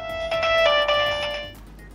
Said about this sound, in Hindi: अमेज़न वालों का फोन आई गवा